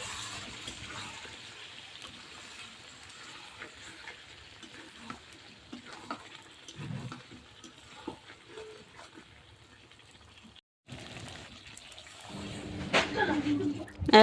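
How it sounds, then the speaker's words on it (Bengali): Water is poured into a sizzling pan of country chicken curry cooked with jackfruit seeds, giving a hissing, bubbling wash with some stirring, a brief lull, then a louder surge near the end. "এখন আমি পরিমাণ মতো পানি দিয়ে দেব"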